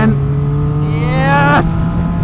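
A Triumph Street Triple R motorcycle engine burbles steadily up close, its low rumble rising briefly as revs climb before settling back, heard alone without talk.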